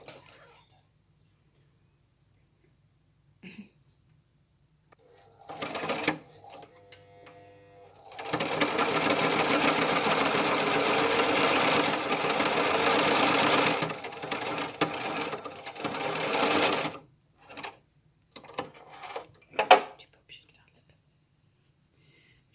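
Sewing machine stitching a cloth face mask modeled on a surgical mask, running in a long steady burst and a few shorter starts, with quiet whispered talk around it.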